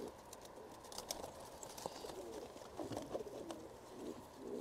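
Pigeons in a coop coo softly and intermittently, faint and somewhat distant, with light rustling and small chirps mixed in.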